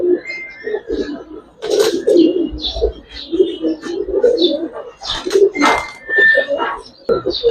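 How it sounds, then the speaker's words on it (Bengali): A pair of green Gola pigeons, an old down-face Giribaz high-flyer breed, coo steadily in low, throaty bursts nearby, with a few higher chirps from other birds mixed in. "ডাউন ফেসের এক জোড়া সবুজ গোলা কবুতর দেখাবো এখন, পুরান জাতের"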